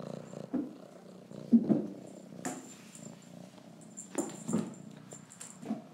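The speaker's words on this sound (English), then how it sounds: "ridiculously loud purring" A kitten purrs close and loud, a rumbling continuous purr with a few rustling bumps and small movement noises.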